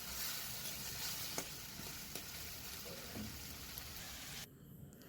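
Diced potatoes tipped into spiced masala in a pan, a faint steady sizzle with occasional small clicks of a utensil, the frying noise dropping slightly near the end, no speech.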